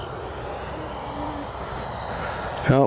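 A steady, distant whine from an FMS F-86 80mm RC electric ducted-fan jet on its landing approach, with a short sharp blip just before the end.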